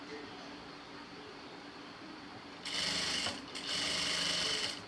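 A sewing machine stitching a neckline starts up after a quiet stretch, running in a steady close whir, pausing briefly, then resuming.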